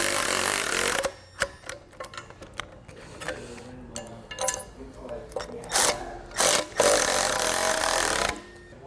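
A 7/8 inch open-ended wrench and 13/16 inch socket tightening bolts on the leg of a Curt PowerRide 5th wheel trailer hitch, rapid metallic ratcheting clicks in short bursts between pauses, fairly close.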